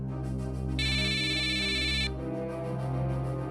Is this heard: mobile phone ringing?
yes